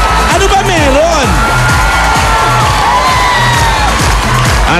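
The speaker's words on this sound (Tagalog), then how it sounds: "Ba't ba kayo sigaw ng sigaw?" A loud crowd shouts and cheers continuously at a live event with general admission tickets, with whoops and excited voices layered over a steady roar and pounding music underneath, lasting throughout.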